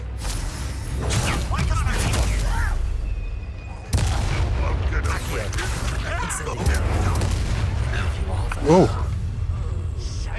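The Incendio fire spell is cast repeatedly in Hogwarts Legacy, with whooshing flame bursts and heavy booms amid busy combat effects, while voices are heard in places.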